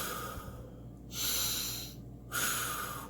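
A man imitates a runner's breathing with two forceful, loud breaths, each sharp and rushing, following one another alone without other talk.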